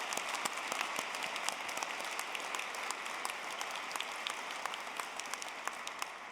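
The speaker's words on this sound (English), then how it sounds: "Applaud our graduates." A large audience claps for graduates at a university graduation ceremony, dense sustained applause filling the hall, even and continuous at moderate distance.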